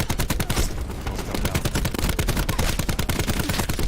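ICR-7 assault rifle firing in Call of Duty: Black Ops 4, a loud, continuous automatic burst of rapid, evenly spaced shots that runs for the whole stretch without any pause.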